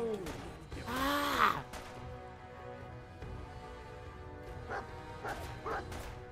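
Dog in the Fallout 4 video game, a couple of close whimpering barks and yips near the start, then softer brief yelps later over faint game ambience.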